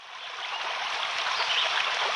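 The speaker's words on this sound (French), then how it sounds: "des cascades de 100 mètres de hauteur appelées la Hrayr" Waterfall cascades of the Hrayr falls near Saïda, Algeria, dropping about 100 meters, make a steady, full hiss of rushing water, constant and fairly close with no voices.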